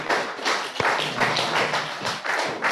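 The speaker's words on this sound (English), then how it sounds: "Let's stand up, just clap for ourselves" Workshop participants standing and applauding themselves at the close of a regional session, a steady wash of many hands clapping with a few louder thumps, no talk over it.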